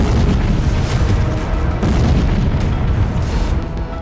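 Explosion of a Russian T-72B tank hit by a drone-dropped grenade in a forest, a loud continuous heavy roar and rumble that fills the whole stretch without pause.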